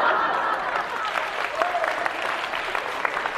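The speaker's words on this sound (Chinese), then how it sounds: "您先别鼓掌啊" Audience applause at a Chinese crosstalk comedy show: a dense, steady burst of clapping from a large crowd with scattered chuckles, and a voice speaks over it briefly.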